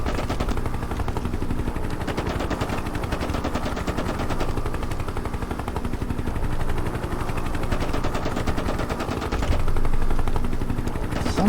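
Rapid machine-gun fire from a Hind helicopter gunship in a flying tank game, attacking tanks during a realistic-difficulty tutorial mission; dense sustained bursts under a steady rotor drone, growing louder near the end.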